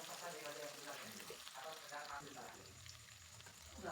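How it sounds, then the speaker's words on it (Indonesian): Shallots fry in hot oil in a pan, giving a soft crackling sizzle that rises and fades across a few seconds and stays faint and close. "Lanjut kita goreng bawang merahnya. Bawang merahnya kita goreng cukup layu saja."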